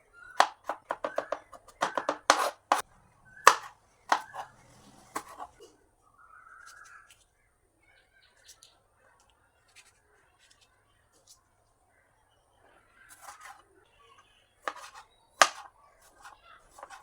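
A knife chops onion, green chili, ginger, garlic and tomato on a board in a home kitchen, quick rhythmic taps in bursts at the start, then sparse cuts and another short flurry near the end, with little else around.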